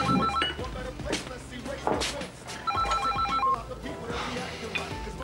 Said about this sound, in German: Leute, euer Telefon klingelt.